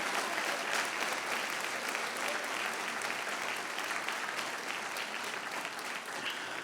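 Sustained applause from a church congregation during a service, a continuous dense wash of many hands clapping at a moderate, even level with no voices standing out.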